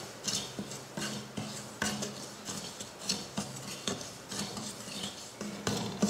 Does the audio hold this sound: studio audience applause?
no